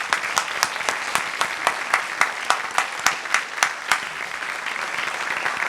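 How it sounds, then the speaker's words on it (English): Audience applause at a high school senior awards ceremony: a thin, sparse spread of claps with a few distinct, sharp individual hand strikes standing out in an uneven rhythm, steady and moderately loud, with no voices. "Let's have one final applause for all of our recipients"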